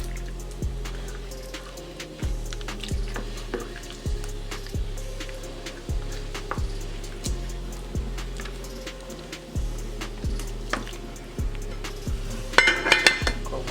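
A utensil scrapes and taps around a pot of Jamaican stew peas in a steady rhythm, with faint liquid sloshing and a brief clatter near the end.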